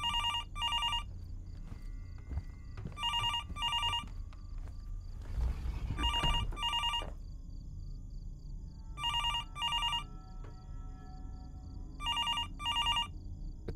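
Old-style telephone bell ringing in the horror video game Fears to Fathom, Norwood Hitchhike episode, repeating in paired bursts with silent gaps, moderately loud over a low ambient hum, with a brief rustle partway through.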